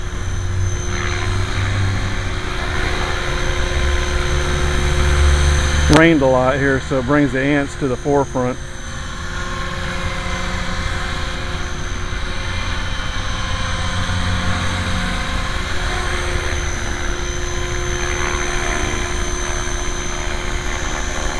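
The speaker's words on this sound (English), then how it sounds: "It's a fun helicopter to fly." Coaxial radio-controlled model helicopter hovering outdoors, its steady buzzing whine running through the whole stretch while someone talks briefly over it.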